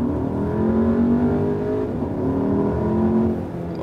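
A 2016 Skoda Superb L&K sedan with a 2.0 TSI 220 petrol engine accelerates hard, its engine note rising in a steady, loud drone heard from inside the car, without talk.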